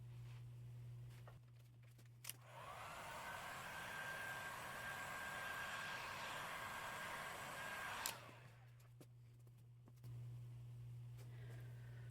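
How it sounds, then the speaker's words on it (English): Heat gun blowing steady hot air over resin bookmarks, a continuous loud whooshing hiss with a faint whine that runs for about five seconds, switched on and off, alone with no talk. "Hit this with the heat gun and let it sit."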